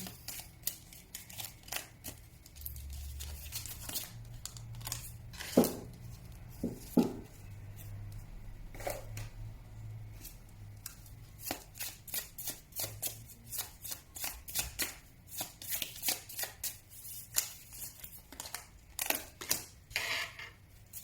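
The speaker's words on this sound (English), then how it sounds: "I know this is a long shuffle." Long run of card shuffling, repeated riffles and crisp flutters of cards with brief pauses between passes, close and fairly quiet.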